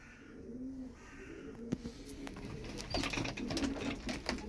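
Purebred Turkish game pigeons cooing in a loft, soft repeated low coos close by with a few sharp clicks and flutters, fairly quiet and steady throughout.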